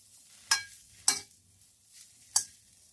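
Stirring in a pan while ingredients are added for market-style chowmein, three or four sharp metallic scrapes and clinks spaced apart over a quiet background.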